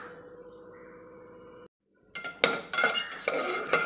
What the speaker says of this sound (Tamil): இப்போ வந்து நம்ம பாசிப்பருப்பை நெய்யில் போட்டு நல்லா வறுத்தாச்சு